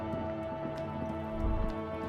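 Heavy downpour in the Disco Elysium video game, with a dense patter of raindrops over a steady low drone and a few sharper drips. A deeper rumble swells briefly partway through.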